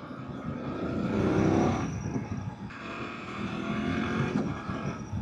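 A BMW F800 GS motorcycle accelerates while riding, engine rising in pitch with quick, seamless gear changes from the quick shifter, loud and close under wind noise, without speech.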